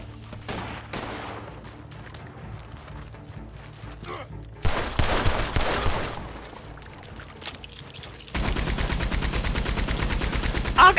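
Rapid automatic gunfire from a Gatling gun in the Western video game Red Dead Redemption 2 on PC, loud sustained bursts near the end after scattered shots and chaotic game noise, with voices in the background.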